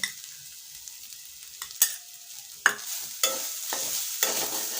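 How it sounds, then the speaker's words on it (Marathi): Grated coconut is stir-fried in ghee, with a soft steady sizzle broken by a handful of sharper scraping strokes of a spatula against the pan, a few seconds apart, and no talking. "आणि हा नारळाचा किस व्यवस्थित परतून घेणार आहोत"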